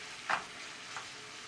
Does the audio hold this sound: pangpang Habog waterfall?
no